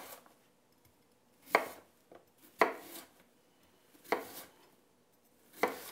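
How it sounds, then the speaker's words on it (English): Sweet potato sliced with a long chef's knife, four or five distinct, close thunks on a board spaced about a second apart, separated by near silence. "I'm going to very carefully here just start slicing the sweet potato in small slices"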